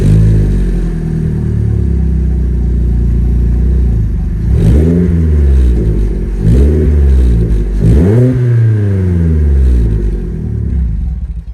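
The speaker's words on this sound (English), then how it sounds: "you've all been waiting for the sound test" A loud, raw car engine with the rear silencer removed idles with a rough rumble, then revs sharply three times in quick succession, each rev rising and falling.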